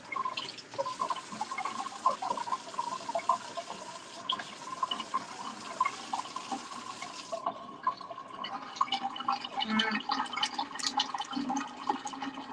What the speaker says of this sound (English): Jeez, that's a loud freaking drain